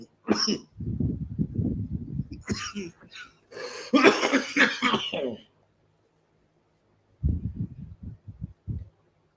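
A fit of loud, close coughing and throat clearing in several harsh bursts, then a quiet stretch before a few lighter coughs.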